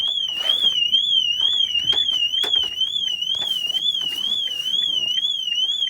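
A loud, close Nissan Leaf car alarm wails continuously, its pitch warbling up and down in a fast, steady cycle, with some clattering beneath it.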